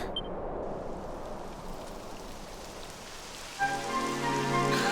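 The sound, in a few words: rain falling in Dragon Quest XI S video game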